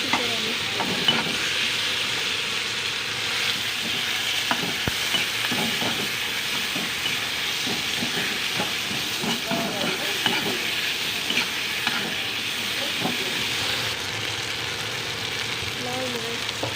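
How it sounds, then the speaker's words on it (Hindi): Tomatoes frying in oil in a pan for a bitter gourd and onion dish, a constant loud hiss with repeated stirring scrapes and small clinks, no speech. "टमाटर फ्राई करेंगे, फिर इसमें टमाटर डालेंगे। फिर इसको अच्छी तरह मिक्स करेंगे।"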